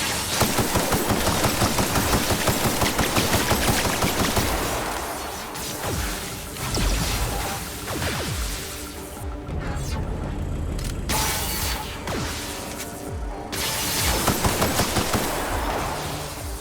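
Rapid gunfire in The Outer Worlds, bursts of automatic shots with mechanical clatter through most of the stretch, loud and dense, pausing briefly between volleys.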